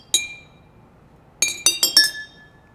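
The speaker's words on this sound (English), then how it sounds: "Somebody can play the glass xylophones, as I like to call them." Kitchen drinking glasses are struck like a glass xylophone, giving one bright ringing ping and then a quick run of four clinks that ring out and fade, close and clear with no talk.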